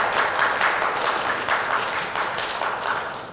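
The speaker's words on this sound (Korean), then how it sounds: "이 두 분께 감사의 마음을 담아서 박수 한번 주면 어떨까요?" Audience applause at a Korean human microbiome industrialization forum, a steady crowd clapping that fills the whole stretch at moderate volume, with no voices over it.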